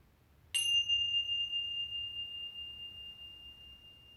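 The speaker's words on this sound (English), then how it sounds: "So we'll start the practice or this meditation with the bells." A single meditation bell struck once, giving a clear ring that sustains and slowly fades in a quiet room.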